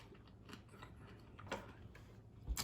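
Faint crisp crunching from biting and chewing lacto-fermented collard greens, a few separate bites close to the microphone amid quiet background.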